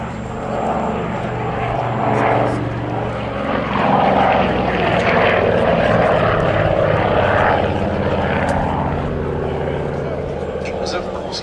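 A vintage Avro Anson C19 twin-engine propeller aircraft flies a display at Duxford's Battle of Britain air show, its steady droning engines swelling and fading as it passes, with a commentator talking over the sound.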